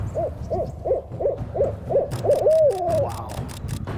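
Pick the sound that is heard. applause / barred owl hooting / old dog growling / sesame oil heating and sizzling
barred owl hooting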